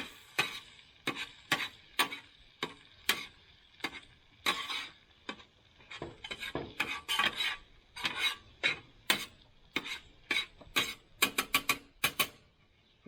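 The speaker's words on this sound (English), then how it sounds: "Now we mix." Garlic Parmesan seasoning being stirred into food cooking in an RV camper, heard as a steady run of short scraping, rasping strokes of a utensil against the pan, close and fairly quiet, with no talking.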